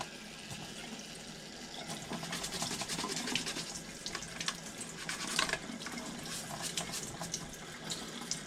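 Steady running water from a tap, a continuous hiss with splashing into a sink, fairly close and without speech.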